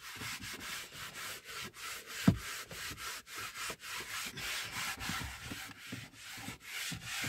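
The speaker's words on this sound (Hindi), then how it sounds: "तो हम फटाफट से डैशबोर्ड को रगड़कर आपको एक लुक दिखाते हैं।" A cloth is rubbed back and forth over a car dashboard during a full interior cleanup, making steady close-up scrubbing strokes that repeat in a continuous rhythm, with one sharp knock partway through.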